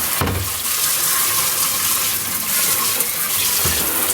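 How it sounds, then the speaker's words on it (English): Tap water runs steadily over an arcade monitor chassis, a loud, continuous close-up splash and rush with brief clunks near the start and end, no talking. "just let the water run, you know, normally like so"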